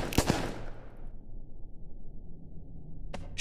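A gun in the Melon Playground video game fires a single sharp burst at the start, then goes quiet apart from a low hum, and a second short shot cuts in near the end.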